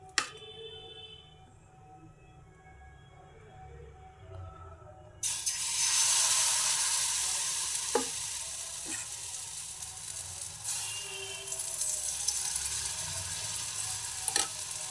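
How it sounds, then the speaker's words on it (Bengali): Vegetable batter for gola roti poured into hot oil in a wok, breaking into a loud, steady sizzling hiss about a third of the way in after a quieter stretch, with a few faint clicks of utensils. "আমি কড়াটা বসিয়ে দিয়েছি, আমি তেল দিয়েছি। এবার আমি গোলাটাকে দিব।"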